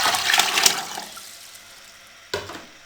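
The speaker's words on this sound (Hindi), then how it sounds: "अब इसमें हम 2 लीटर पानी डाल देंगे।" About two litres of water splash and pour briefly into a cooking pot of chickpeas for pulao, then fade to a soft trickle, with a short sharp splash near the end.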